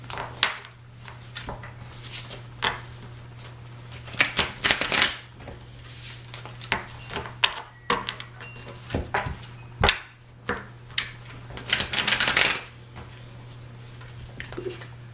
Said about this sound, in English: And we will shuffle and then we'll read.